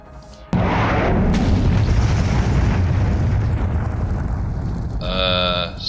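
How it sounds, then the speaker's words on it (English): A missile launcher fires in the Minecraft FTB Infamy mod pack with a sudden loud roaring blast that rumbles on for several seconds and ends in a fluttering, whistling tail. "Missile Launcher Test Run."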